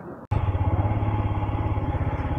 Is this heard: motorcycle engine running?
yes